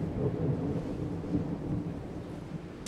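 Thunder from the video game Genshin Impact rolls as a low, continuous rumble mixed with a rain-like hiss. It lasts about three seconds with no talking.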